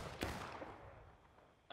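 Gunfire in a large 200-player online battle game, with one sharp shot near the start over a dense wash of distant battlefield noise, and a short burst of voice at the end.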